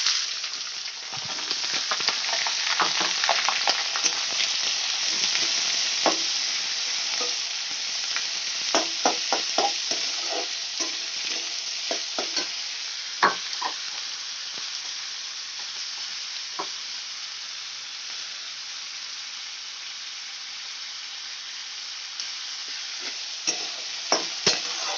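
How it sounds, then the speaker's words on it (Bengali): Three medium onions, thinly sliced, frying toward golden brown in a pan with a steady loud sizzle and frequent scraping stirs, no talk over it. "পাতলা পাতলা করে তিনটে মিডিয়াম সাইজের পেঁয়াজ আমি এটাকে গোল্ডেন ব্রাউন করে ভেজে নেব।"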